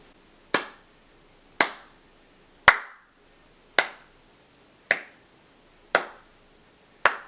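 Slow clap: seven single sharp hand claps spaced about a second apart, each crisp and close with a short fading tail, in an otherwise quiet room.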